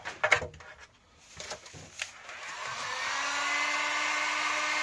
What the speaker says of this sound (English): Right, let's get hair drying, shall we, and get some of this sticker off.